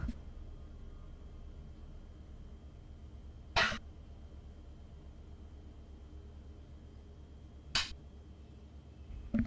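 Two sharp, isolated coughs about four seconds apart, the first louder, against a steady quiet hum with a faint tone running through it.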